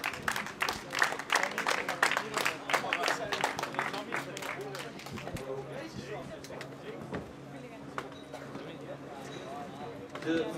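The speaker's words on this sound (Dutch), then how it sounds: "Geef hen een hartelijk applaus" Applause at a gaming tournament prize ceremony: sharp claps bunch up early, then thin into scattered clapping, with people talking throughout.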